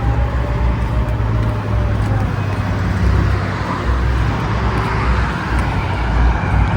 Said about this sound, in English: Now we will let this car go first.